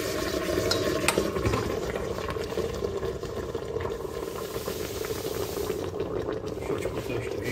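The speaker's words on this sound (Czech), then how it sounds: "No a teď na to naleju takhle ten základ." Liquid sauce base being poured over browned meat in a pot for Czech svíčková, a steady bubbling, sizzling wash that runs continuously at close range with no voices.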